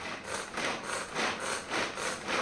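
Garlic and ginger chopped finely with a knife on a board, a steady run of rhythmic, close chopping strokes roughly every half second, with no talking.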